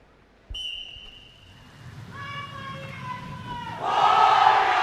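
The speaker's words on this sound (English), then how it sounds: "Goes the whistle." A referee's whistle sounds at the start of a robot competition match at the ABU Robocon 2023 event, a steady shrill blast lasting under two seconds, then a cheering crowd swells loudly.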